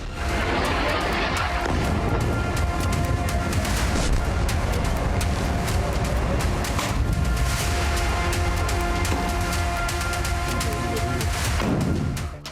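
Dense, continuous barrage of explosions and rapid gunfire from strikes on Iran, loud and chaotic, with heavy booms layered over crackling shots that cut off abruptly at the end.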